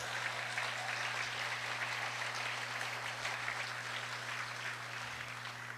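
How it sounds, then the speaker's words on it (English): Audience applause at an awards dinner, a sustained, even roar of many people clapping in a large room, steady and fairly distant, with a low electrical hum underneath and no voices over it. "I certainly do like that big applause"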